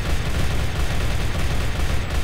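Continuous rapid gunfire from a minigun in a Minecraft gun mod, a dense unbroken rattling roar at steady loudness across the whole stretch, with no voices.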